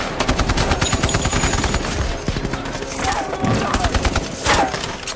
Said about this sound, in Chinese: 战斗瞬间打响，各种子弹横飞